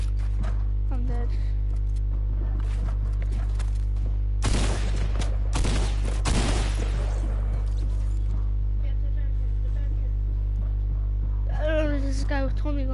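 Rapid bursts of Tommy gun fire in a video game, two dense volleys in the middle of the stretch over a steady low in-game hum, with scattered quieter shots and sounds around them.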